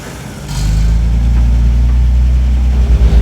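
A Lotus Carlton engine idles on a cold start, its steady low rumble holding loud and close for a few seconds with a slight swell near the start.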